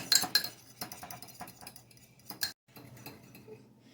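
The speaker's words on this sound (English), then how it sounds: "And now I need to mix it." Pancake batter being mixed in a bowl, with a utensil clinking and scraping against the sides in quick irregular strokes, close and moderately loud, pausing briefly before resuming more softly.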